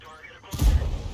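Main gun of an IS-7 heavy tank firing in World of Tanks, a single deep booming report that bursts in after a quiet moment and rolls on with low rumble.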